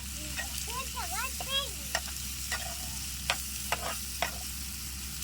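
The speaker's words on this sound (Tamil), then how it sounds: "இட்லி பொடி சேர்த்தாச்சு ஒரு கிண்டு கிண்டிட்டு" Chicken frying in ghee with idli podi sizzles steadily in a pan while a spatula scrapes and clinks through a few stirs, close and fairly quiet.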